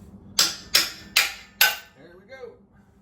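Four sharp hammer strikes ring out in steady succession, close and loud, while work goes on building a log lift; a few softer knocks and faint scraping trail off after the last blow.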